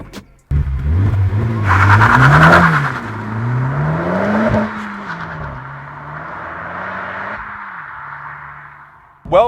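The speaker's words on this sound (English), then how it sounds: "thanks to a 2-litre turbocharged 4-cylinder VTEC petrol engine" A Honda Civic Type R hot hatch with a 2-litre turbocharged four-cylinder VTEC petrol engine accelerates hard nearby, the engine note climbing and dropping through gear changes, then fading out before a short burst at the end.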